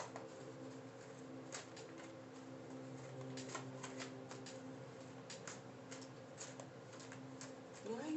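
Soft papery riffling of tarot cards being shuffled, in short repeated bursts over a steady low hum, fairly close and quiet.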